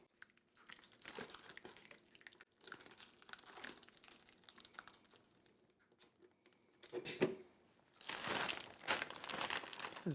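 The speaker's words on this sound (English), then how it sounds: "let's get the marinade poured into the bag." Marinade being poured into a large 2-gallon zip top bag holding pork for tacos al pastor, heard as crinkling plastic and liquid pattering, with a louder burst of rustling near the end.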